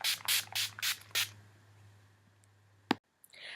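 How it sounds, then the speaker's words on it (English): Urban Decay De-Slick setting spray is misted onto a face in five quick, close hissing bursts, followed by quiet and a single sharp click. "I'll be using that same Urban Decay De-Slick setting spray."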